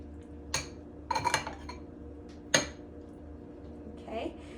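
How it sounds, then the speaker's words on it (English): A spoon clinks and scrapes against a bowl while stirring a vegan strawberry shortcake mixture, several sharp separate knocks with quiet pauses between them. "you would take your spoon and just stir that up"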